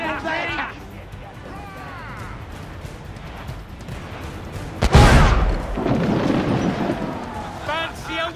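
Ship cannons in the video game Assassin's Creed 4: Black Flag fire in one heavy booming blast midway through, followed by a rumbling tail, amid game music, crew shouting and battle noise.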